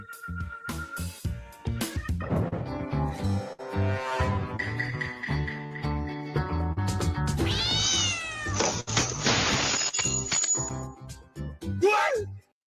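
A cat meows repeatedly, with several drawn-out, wavering cries close by, mixed with people talking, sharp clinks and knocks around a glass bowl set on top of a car.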